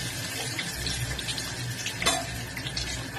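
Fish frying in hot oil gives a continuous close crackling sizzle, broken once by a sharper clatter of utensil or pan.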